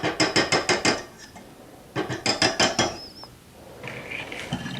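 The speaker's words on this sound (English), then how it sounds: "We will remove our whisk attachment" Metal clattering and tapping on a stand mixer as the whisk attachment is worked free: two quick rhythmic bursts of sharp knocks, close and fairly loud, then a squeak and softer handling noises.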